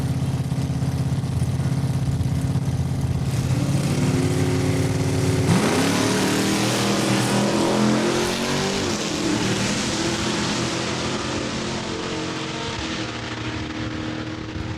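A 1970 Dodge Dart and a 1962 Plymouth Fury rumble at the line of a drag race at Saskatchewan International Raceway in Saskatoon, then launch with a loud, rising roar of revving V8-style engines that holds and slowly recedes.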